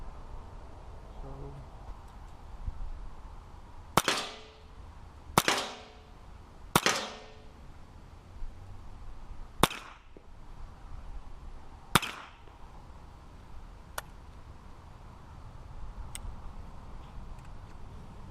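Sharp single rifle shots from a Marlin Model A1 fire in a video game, five loud cracks spaced a second or two apart with ringing tails, followed by a few fainter clicks.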